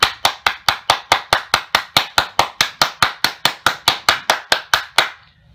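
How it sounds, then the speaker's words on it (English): Steady, evenly spaced hand claps, about twenty in a row at a brisk regular beat, crisp and close, as applause in honor of a person, ending in a short silence. "So let's give that brother a round of applause, Mr. William Lloyd Garrison."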